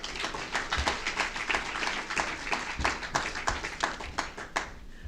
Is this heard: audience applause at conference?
yes